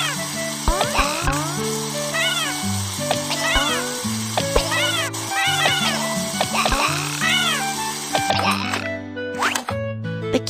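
Stray kitten meowing in a children's cartoon, a string of repeated high, rising meows over light background music, several distinct cries spaced across the stretch.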